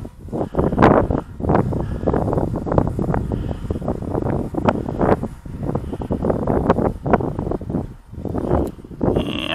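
Wind buffets and rumbles steadily against the microphone while a DJI Spark drone flies outdoors near a baseball field, a loud, continuous gusting roar with no voices.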